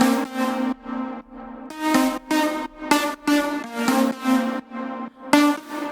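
Layered group of synth patches in Ableton Live playing a bright, harmonically rich chordal pattern of pulsing notes, several stabs and sustained chords in rhythmic succession, loud and alone.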